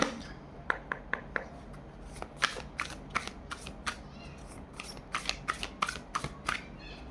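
Tarot cards are shuffled by hand in a quiet room, a run of quick crisp riffles and flicks in uneven bursts, close and soft.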